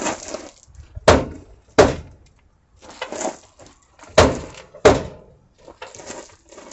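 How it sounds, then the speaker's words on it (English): Creaking doors on a 1978 Mercury Marquis in a junkyard, swung repeatedly: a series of harsh, grinding creaks and clunks in uneven pairs, close and loud, with no talking. "Now, both doors make that creaking noise."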